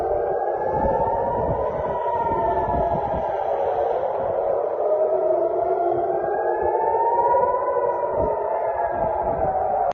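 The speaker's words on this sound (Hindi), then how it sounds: "किस तरीके से तेल अवीव में सायरन की गूंज सुनाई दे रही है।" Air raid sirens in Tel Aviv sound continuously, their loud, slowly rising and falling wail sweeping across the city for the whole stretch with no voices.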